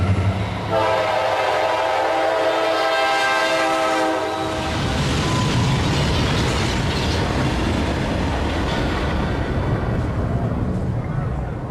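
A train racing at 90 toward a bridge near Kingman, Arizona, in 1997 sounds a long, loud horn blast, then thunders past with heavy rumbling and rail clatter, while someone narrates over it.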